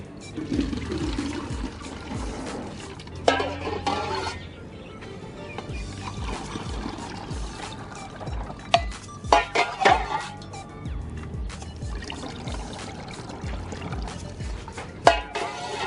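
Fermented coconut-water microbial liquid is scooped and poured into bottles, giving repeated sloshing and splashing, close by, with occasional knocks of a container or scoop between pours.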